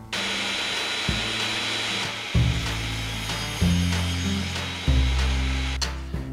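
A power saw cutting 1x3 wood boards for a kids table, a loud continuous whine with the pitch dipping and shifting as each cut bites, close and without talk.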